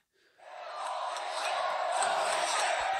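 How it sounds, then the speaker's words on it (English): Large wrestling arena crowd at WrestleMania 37 swelling into a loud, sustained roar and chant after a high-impact table spot, rising from near silence and holding steady for the remainder. "Crowd now chanting, holy shit, as Apollo puts him back into the ring."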